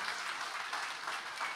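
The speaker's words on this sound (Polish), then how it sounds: "Wielkie, wielkie, wielkie brawa." Applause from an audience after an oriental dance show performance, steady continuous clapping at moderate distance.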